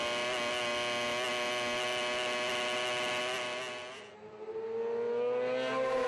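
A racing sidecar engine roars at sustained high revs during a championship race, a harsh buzzing howl that holds steady, dips briefly and then climbs again, loud and close.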